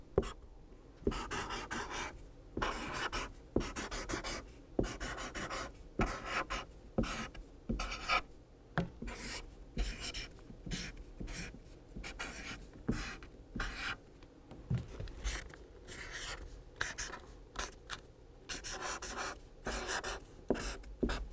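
Pen or marker writing on paper or a chart during a third-grade reading lesson, a steady run of close scratchy strokes in short bursts with brief pauses, no talking.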